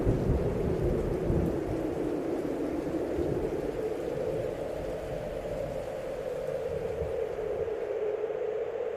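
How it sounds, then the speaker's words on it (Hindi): A summer thunderstorm in the pre-monsoon Kalbaisakhi season brings steady heavy rain with a continuous deep thunder rumble that stays loud and dense throughout, with no voices. "तूफान उठ खड़ा हुआ है।"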